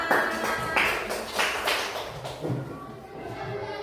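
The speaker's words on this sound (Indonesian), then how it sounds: "Kasih tepuk tangan untuk kita semua." A primary classroom during a maths lesson gives itself a round of hand claps, a short, fairly quiet run of scattered, uneven claps and thuds with a faint voice underneath.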